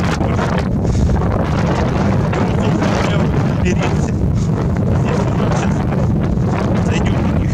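Strong wind on the Crimean Bridge railway approaches in February buffets the microphone with constant low roaring and rumble, steady and close throughout, with no clear voices over it.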